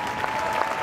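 Brief burst of audience clapping at a police dog performance show, fairly close and steady, lasting under a second.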